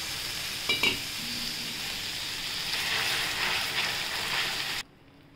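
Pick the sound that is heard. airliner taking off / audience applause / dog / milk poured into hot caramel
milk poured into hot caramel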